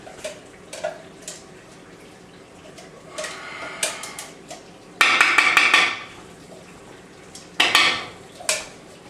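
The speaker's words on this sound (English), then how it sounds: "I'm going to add the garlic. Again, 8 cloves of garlic." Eight garlic cloves dropped into a pot of Italian gravy, with a few clinking bursts of utensils against the pot, loudest near the middle and the end of the stretch, over a quiet kitchen background.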